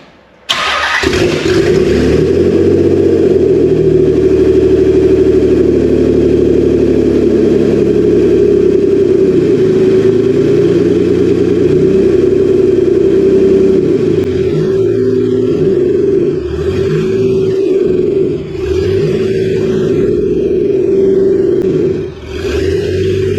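A Nissan 300ZX with a freshly installed manual gearbox cranks over and fires, then holds a loud, steady droning idle with a few blips of revving toward the end, running without its exhaust fitted.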